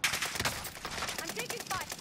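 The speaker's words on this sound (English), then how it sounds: "I'm taking fire." Bursts of rapid automatic gunfire crackle through a battle royale video game firefight, with overlapping shots packed densely across a couple of seconds, loud and close.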